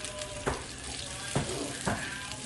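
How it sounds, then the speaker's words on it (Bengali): Water poured into spiced masala frying for pomfret fish curry, producing a constant sizzle broken by three sharp hissing bursts, close by and without talk. "মশলাটা কষিয়ে গেছে অনেকটা, এবার জল দিয়ে দিচ্ছি।"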